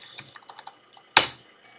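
Typing on a computer keyboard: a run of light, quick key clicks followed by one sharp, louder keystroke as Enter is pressed, then a brief decay into quiet.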